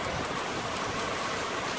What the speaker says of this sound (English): it is pouring with rain right now